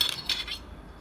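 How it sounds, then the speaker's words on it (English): A fork scraping and clinking against a dish while food is chopped for sushi maki, a couple of quick bright metallic scrapes in about a second, close and fairly faint. "I'm chopping everything."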